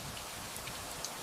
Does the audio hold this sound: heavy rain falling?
yes